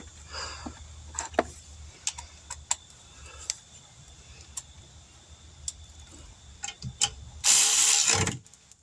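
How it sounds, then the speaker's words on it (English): Bolts being threaded and ratcheted back into the brake assembly of a 2010 Buick Enclave, passenger side, with scattered close metallic clicks and ratchet ticks, then a brief louder burst of rattling near the end. "Put our 2 bolts back in."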